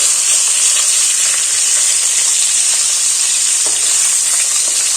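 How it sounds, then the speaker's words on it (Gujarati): Raw banana pieces sauté in oil in a pan with a loud, continuous hiss and sizzle that stays even from start to finish, close and without speech. "આ રીતે હળવા હાથે તેલમાં આપણે બધા કેળા છે તે પેલા સાતડી લેવાના છે"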